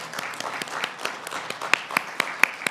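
A crowd claps for Elizabeth at the 2021 Goodwill Awards ceremony: brief, continuous applause from many hands, with a few crisp, louder claps from nearby hands poking through the steady patter.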